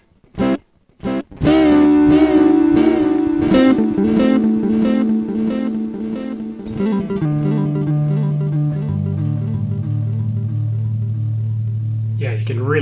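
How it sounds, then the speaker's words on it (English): Electric guitar run through a budget AliExpress reverb/echo/delay circuit board, loud and fuzzy with added white-noise hiss: a few sharp opening plucks, then a sustained distorted chord smeared into long delay trails that hold steady to the end. "you can really hear the fuzz on that, the white noise being added in"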